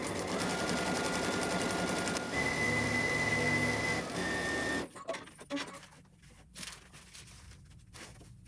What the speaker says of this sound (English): just sewing a few stitches